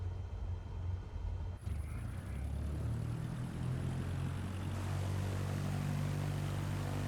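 A light aircraft engine drones while taxiing to a grass runway in Microsoft Flight Simulator 2024. The steady hum thickens after a brief shift early on, then holds evenly throughout.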